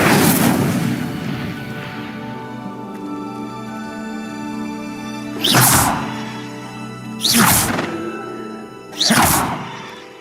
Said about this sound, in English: Conjuring fire.